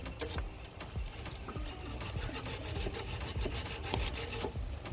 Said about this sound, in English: the first thing I'm going to do is take my brush and clean this